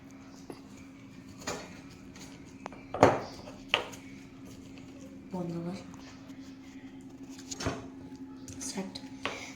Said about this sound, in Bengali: তারপরে লেবু দেবো, একটু ক্রাশ করে নেব সবকটাকে